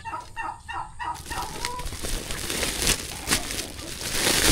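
A backyard farm chicken clucks in short repeated notes near the start, followed by rustling and crinkling noise as someone moves close by.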